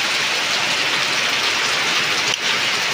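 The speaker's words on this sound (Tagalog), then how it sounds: "So malakas lang yung hangin at ulan." Strong wind and heavy rain from Typhoon Tino lashing Southern Leyte at night, a dense, steady roar of downpour filling the whole span with a brief dip near the end and no voices.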